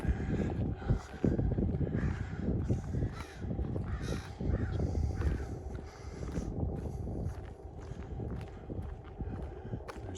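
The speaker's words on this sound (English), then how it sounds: "Yeah, that's a crow up there." A crow caws several times overhead along a residential street in Regina during a summer walk, the calls repeated over steady outdoor noise and nearby footsteps.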